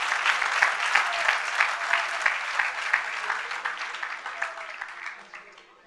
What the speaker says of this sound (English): Can we have a huge round of applause for his talk?